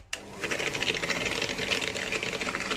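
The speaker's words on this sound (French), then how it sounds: "alors, hop, au batteur électrique, sur les oreilles, on va fouetter" An electric hand mixer whisks vanilla and sugar for shortbread biscuits, a continuous close buzzing whir with rattling beaters that starts abruptly and holds steady throughout, no voices.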